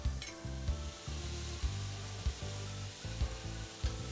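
Chicken with oil grilling on the heat: a continuous bright sizzle and frying crackle runs throughout, with recurring low thumps that suggest the pieces being moved or turned, and no talking.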